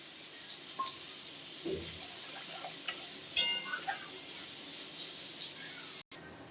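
Water poured into a fried spice paste whose oil has separated, for a bele fish and tomato curry. A fairly faint sizzle carries scattered splashy bursts and clatters, then cuts off abruptly near the end.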